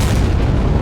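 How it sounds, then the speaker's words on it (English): A deep, heavy boom rolls out from secondary explosions aboard a sinking warship in the Sea Power naval game, one loud, dense blast with no gap or fade within the brief moment. "I think those must be secondary explosions."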